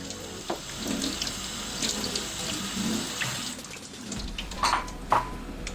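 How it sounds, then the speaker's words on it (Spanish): Strained oats are rinsed under a running kitchen tap, a steady close stream of water with splashes and a couple of louder sloshing bursts near the end. "La enjuagaremos bajo el grifo"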